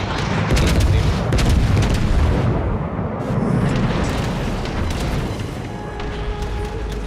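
Rockets explode in a World of Warships naval battle: dense, loud booms and sharp bursts follow one another in quick succession, then settle into a rumbling wash of lighter pops.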